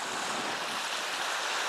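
Ocean waves on a Hokkaido coast in the early morning, a steady broad wash of surf with some wind noise, continuous and fairly loud with no voices.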